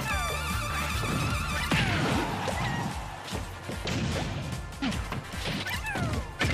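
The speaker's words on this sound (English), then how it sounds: "They make the same noise when you throw them as when you use a smash attack" Pikmin are thrown repeatedly in Super Smash Bros, with rapid whooshing throws and sharp smashing hits landing in a busy, loud series, over layered game effects and a continuous backing score.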